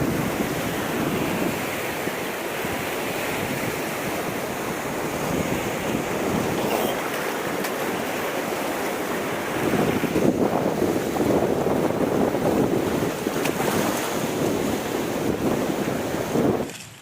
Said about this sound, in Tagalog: Sabi alon.